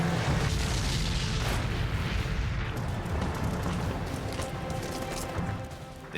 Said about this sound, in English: The tank following is struck by a double salvo of bazooka blasts.